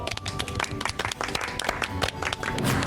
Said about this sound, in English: Oh, look, the baby's even clapping.